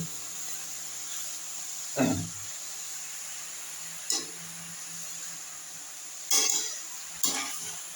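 Spinach curry frying in a pan, a soft steady sizzle under a high hiss, broken by four separate spoon scrapes or knocks against the pan at uneven gaps.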